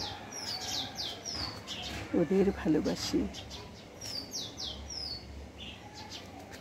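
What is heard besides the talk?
small birds calling in fear near their nest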